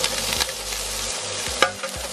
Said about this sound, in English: So I'm gonna make some rice and a breakfast scramble.